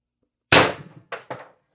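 A Pistelle X-68 CO2 airsoft pistol fires with heated CO2, one sharp loud crack followed by two quicker, fainter clacks in quiet surroundings.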